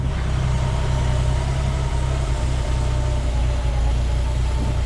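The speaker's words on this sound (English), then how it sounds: "Jeep's idling." A Jeep engine idles steadily, a deep low rumble with an even throb that holds loud and close for the whole stretch, with no talk over it.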